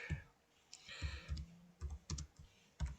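Typing on a computer keyboard, close and quiet, with scattered clusters of sharp key clicks and thuds in an uneven rhythm and brief pauses between bursts.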